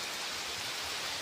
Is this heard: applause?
no